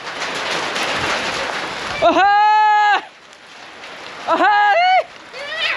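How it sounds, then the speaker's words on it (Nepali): A hailstorm pelts down in a Nepali village near a school, a dense loud hiss of falling ice and water, broken by a person's startled drawn-out exclamations over the din. "असिना आयो"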